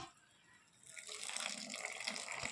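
Chicken gravy being poured into a biryani pot, a soft liquid gush and splash that builds after a quiet start and carries on steadily, faint and close.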